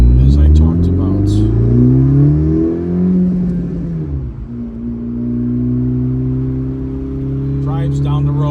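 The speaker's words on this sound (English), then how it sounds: "Drives down the road real nice and smooth. This is third gear at 40 miles an hour." A modified 2019 Honda Civic Si turbo with a 6-speed cruises in third gear at about 40 mph. Its engine drone is loud and close, rising briefly, then settling into an even hum.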